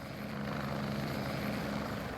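Steady, close helicopter rotor and engine drone from a Torchwood Miracle Day action scene shot on a beach in Gower, holding a constant loud roar for the whole stretch with no voices.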